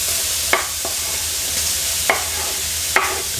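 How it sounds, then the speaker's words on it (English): Chestnut mushrooms sautéing in a hot dry pan, a soft steady sizzle broken by a few sharp scraping stirs of a utensil against the pan, close and without talk. "In a hot dry pan, I'm gonna saute the chestnut mushrooms."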